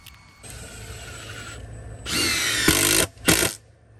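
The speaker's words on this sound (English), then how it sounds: "We went ahead and used screws to attach the boards to the beds." Power drill driving screws into wooden boards of a garden bed, heard as a motor whine followed by two loud, close bursts of the screw being driven in, with no voices.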